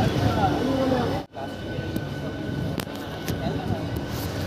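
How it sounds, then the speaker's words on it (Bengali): A Bally–Bandel local train runs on rails near Bhadreswar station, a steady close rumble and rattle inside the coach that briefly drops out, then carries on with faint clicks over the joints. "বন্ধুরা, আমাদের ট্রেন চলে আসলো এখন ভদ্রেশ্বর রেলওয়ে স্টেশনে।"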